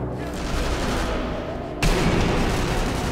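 A single gunshot shatters a bottle in the sniper game Sniper Elite V2, a sharp, loud crack standing out over a steady background of ambient battle noise, with no talking.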